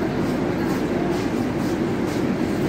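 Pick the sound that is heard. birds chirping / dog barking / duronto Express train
duronto Express train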